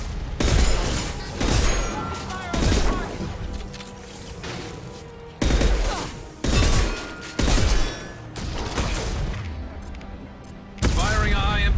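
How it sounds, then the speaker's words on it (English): Concussive shot ability firing in Mass Effect 2 amid combat, several loud, heavy blasts and impacts in irregular bursts with crashing debris between them. "Concussive shot."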